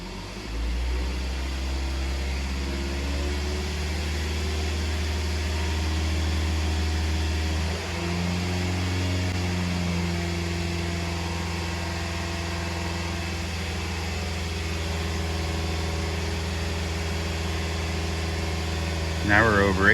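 A Toyota engine with a P0171 system-too-lean fault drones steadily near the microphone, its tone shifting upward partway through as it is raised toward 2,500 RPM, with a brief noisy bump at the end.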